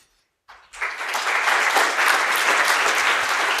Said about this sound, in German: Ja, Applaus für Matthias, ganz herzlichen Dank.